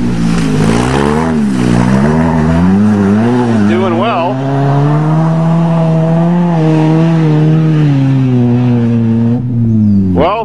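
A Nissan 200SX revs hard climbing a muddy farm hill after rain, its engine note rising and falling in strained surges with wheelspin whine, loud and close, with brief talk.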